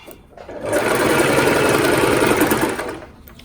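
A sewing machine runs in one steady continuous burst of stitching along the center seam of a palazzo, close and loud, rising and fading at the ends, with no talking.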